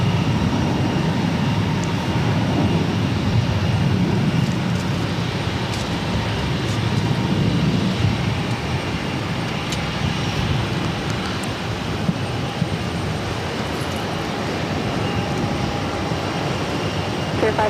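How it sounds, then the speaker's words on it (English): A Spirit Airlines Airbus A320 takes off at Boston Logan, a broad, steady jet roar with engine rumble that holds for the whole stretch at moderate distance, with faint radio chatter beneath. "This is Spirit Airlines 901 taking off to Pittsburgh on the A320"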